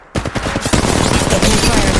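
Rapid automatic gunfire in the Apex Legends video game, a quick stuttering burst of shots close and loud that blurs into continuous firing.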